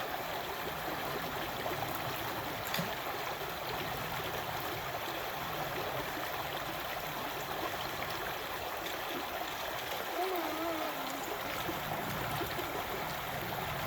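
Hikers wading across a cold river at the end of a day on the Bartram Trail, with steady rushing and trickling water throughout, fairly close and continuous, with no distinct splashes standing out.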